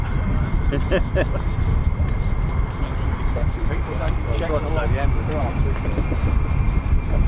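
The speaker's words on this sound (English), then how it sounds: "Here we go, F-15s." F-15 fighter jets fly past at RAF Lakenheath, a loud, rough roar that swells and fades beneath people chatting nearby.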